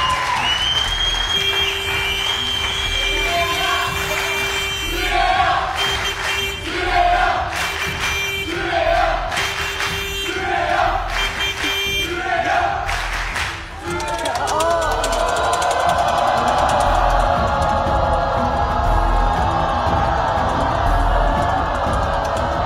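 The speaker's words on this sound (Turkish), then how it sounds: "Hadi bir moral alkışı lütfen." A game show studio audience breaks into applause and cheering after a host speaks over music, the clapping swelling into a loud sustained wash near the end.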